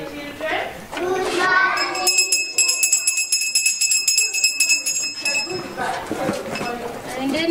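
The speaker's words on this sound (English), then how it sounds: "rings the bell to announce the end of the school day" The headmistress rings a school hand bell to mark the end of the school day, with a rapid series of bright, ringing clangs framed by children's voices chattering before and after.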